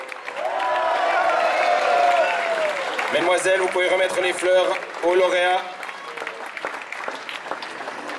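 A crowd at a cycling stage-race podium ceremony in Geneva claps and cheers in the background while an announcer speaks over a PA, with music and the noise trailing off toward the end.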